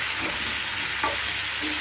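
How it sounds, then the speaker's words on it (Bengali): Potato and cauliflower pieces fry in a pan, giving a continuous close sizzle with a couple of brief stirring scrapes. "আলু আর ফুলকপিটা একটু ভেজে নিলাম"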